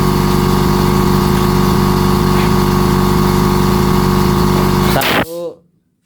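A Honda Vario 150 scooter with an electrical fault runs with a loud, steady idling engine hum close by, then cuts off abruptly near the end and winds down into silence.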